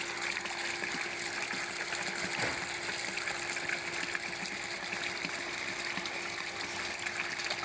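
Water gushes steadily from a newly built hand pump well about 37 meters deep, a continuous broadband splashing rush with no voices over it.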